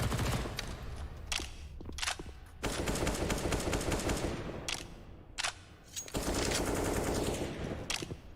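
Automatic gunfire in a professional Counter-Strike match, with dense rapid bursts from rifles and SMGs rattling almost continuously, broken by short pauses, loud and upfront with no talking.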